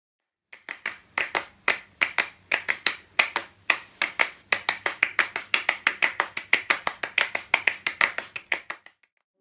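Two people clapping hands in the steady, interlocking rhythmic pattern of Steve Reich's Clapping Music, sharp and close, continuing for several seconds before stopping.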